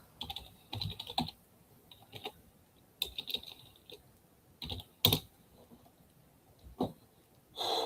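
Someone types on a computer keyboard in irregular bursts of quick clicking keystrokes with short pauses between, close and fairly quiet, no speech.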